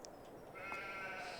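Sheep bleating in the Farming Simulator 22 farm game, a single faint, short bleat heard alone at a distance.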